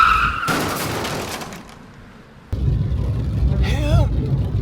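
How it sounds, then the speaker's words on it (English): Staged car crash with a pursued Mini Cooper: a screeching tire skid and engine rush give way to a quieter lull, then an abrupt low impact and rumbling noise, with a voice briefly rising near the end. "we finally filmed the car crash scene"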